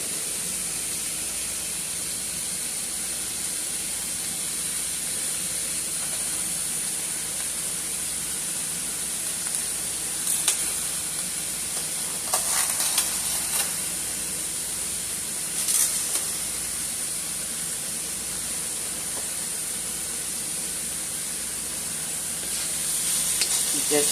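Ground beef fries in a pan with a soft, steady hiss that holds for a long stretch, with a few faint scrapes and crackles now and then.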